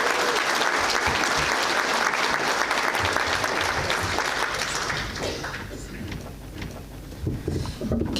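Loud, sustained applause from a conference audience welcoming speaker Penny Marie at an NZ First event, steady clapping that fades toward the end with a few scattered claps.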